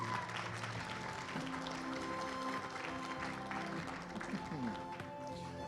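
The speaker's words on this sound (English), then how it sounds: "let's give these guys a round of applause" An audience at a Native American regalia fashion show claps steadily throughout, a dense round of applause with background voices and crowd murmur mixed in.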